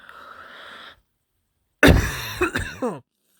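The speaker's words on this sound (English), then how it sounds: "Sorry for the cough." A sudden, harsh cough bursts out close to the microphone after a short silence, followed by a couple of smaller rasping coughs.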